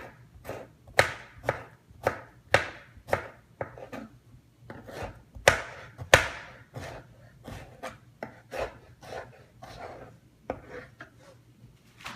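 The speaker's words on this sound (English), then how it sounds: "I usually cut little slabs of the strawberry" Strawberries sliced into little slabs with a knife on a cutting board, a close series of crisp, regular chops knocking against the board, about two a second and evenly spaced.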